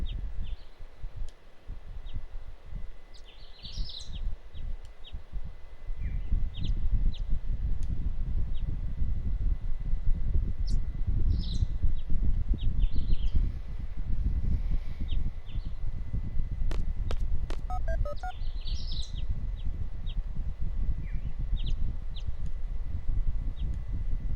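Soft, scattered birdsong chirps drift through a room in Final Fantasy VIII, faint intermittent calls over a steady rushing ambient bed that carries on throughout with no talking.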